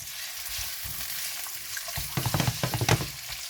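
Mixed vegetables including carrots and red onion stir-fry in oil on an electric hob at medium-high heat, with a steady sizzling hiss and louder bursts of crackle and scraping midway, and no voices.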